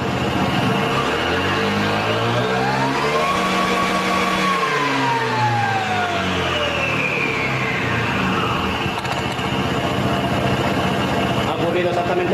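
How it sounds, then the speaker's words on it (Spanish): A car engine with a CVT transmission revs up hard on acceleration, pitch climbing then falling back over several seconds, close and loud with a steady mechanical drone underneath. "Vamos a dar un acelerón más."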